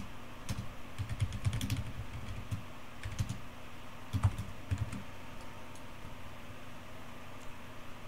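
Code being typed on a computer keyboard: irregular clusters of crisp key clicks with pauses between bursts, close and fairly quiet over a faint steady hiss, no talk.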